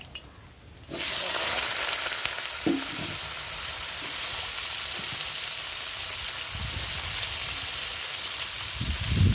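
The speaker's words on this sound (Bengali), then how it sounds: "তেলটা গরম হয়ে গেছে, আলুটা দিয়ে দিচ্ছি।" Potatoes dropped into hot mustard oil during outdoor cooking, bursting into a loud sudden sizzle that then holds as a steady close frying hiss, with a few low stirring bumps.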